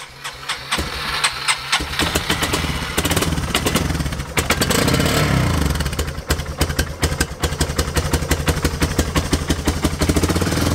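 An ATV engine cranks with a choke, sputters and catches, then settles into a loud, close, throbbing idle with irregular pulses and occasional revs.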